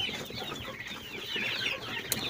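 Several young roosters clucking and murmuring close by in a coop bedded with lime and sawdust, overlapping low calls with a brief sharper squawk near the end.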